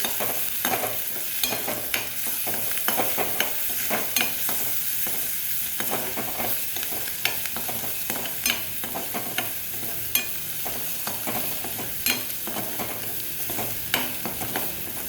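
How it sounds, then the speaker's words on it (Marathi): Onion, garlic, chili, salt and turmeric sautéing in a pan, a dense continuous sizzle with frequent scraping stirs, close and steady throughout, no voices. "त्यात आपण टाकत आहोत लसूण, मिरची, मीठ आणि हळद। ते थोडं 2 मिनिटं परतून घेऊ।"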